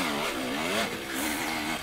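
KTM 300 TPI 2020 two-stroke enduro motorcycle revving close up, a rising and falling buzzy engine whine with quick throttle blips.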